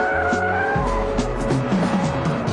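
A rear-drive BMW M5 drifting with stability control off, tires squealing in wavering screeches over a revving engine, loud and close throughout the short burst.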